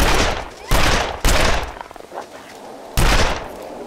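Rifle shots in The Long Dark, four loud sharp cracks, each with a short decaying tail; the first two close together, a quieter gap with faint rustling, then a final shot near the end.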